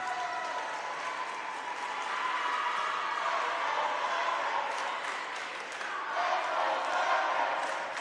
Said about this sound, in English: Big cheering sections for both teams.